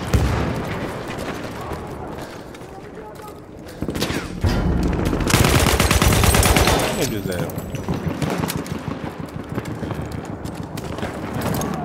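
Battlefield 1 multiplayer firefight with dense bursts of gunfire mixed into a loud, busy in-game mix of effects and clatter, peaking in the middle of the stretch.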